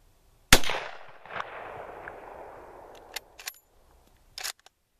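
A German Mauser K98 rifle fires one loud, sharp shot followed by a long decaying echo across open ground, then a few metallic clicks and clacks of the bolt being worked, with no talk.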